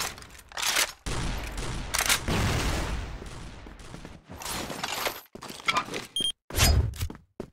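A gold KAC Chainsaw machine gun fires in CrossFire zombie mode, loud close bursts of rapid automatic gunfire broken by short pauses, then a few more stuttering volleys toward the end.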